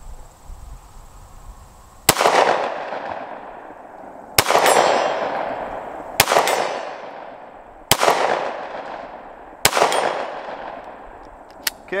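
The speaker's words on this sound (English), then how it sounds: "I'm gonna shoot the Hellcat, shoot this ADAP, see if we can hit it from 50." Five sharp shots from a Springfield Hellcat pistol fired at a steel target 50 yards away, spaced about two seconds apart, each loud crack followed by a ringing metallic decay.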